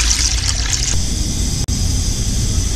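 Water poured into a cooking pot, about 1.5 litres for boiling pasta, making a steady, fairly loud rushing stream close by, with a brief dropout near the end.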